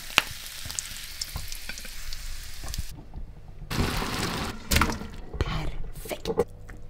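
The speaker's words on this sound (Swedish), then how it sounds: "Korvarna i pannan. Ska de bara stekas på lite grann här." Sausages sizzle and spit in a frying pan, a steady crackling fry close by, with louder bursts of sizzling as they are stirred or moved partway through.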